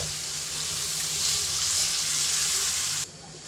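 Water poured into a frying pot of five-greens curry, hissing and sizzling loudly and steadily for about three seconds before cutting off.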